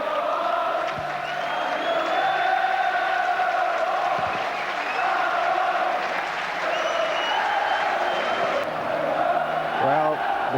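Large Anfield football crowd at Liverpool's Kop after a 1-0 home defeat to Norwich City in 1994, applauding and cheering the players in a steady, dense roar that holds throughout.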